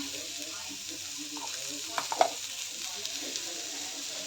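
Onion fries on an iron griddle (tava) for Maharashtrian pithla, with a soft continuous sizzle and a few light scraping stirs of a spatula, close and fairly quiet.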